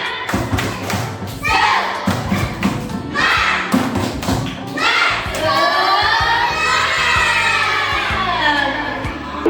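Kindergarten pupils at a community outreach session perform a rhythmic spirit clap, sharp patterned claps in bursts, followed by children's excited shouting and chanting voices.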